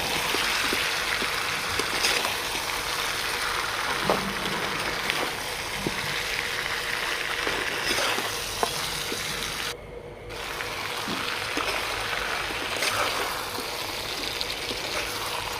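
Meat, potatoes and onion sauté in a pot, producing a dense, continuous hissing sizzle at close range that stays loud and even, with one brief dip partway through.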